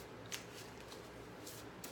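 A deck of oracle cards being shuffled, with soft papery riffles and flicks in short bursts, close and quiet with no talking.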